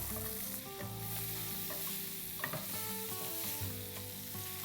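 Sliced onion sizzles in oil with cumin for egg tawa pulao, a steady frying hiss with occasional stirring scrapes beneath prominent background music.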